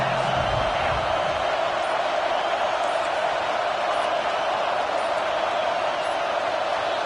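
A football stadium crowd roars in a dense, constant wall of noise during a fourth-down try, loud and unbroken throughout with no distinct cheers or pauses.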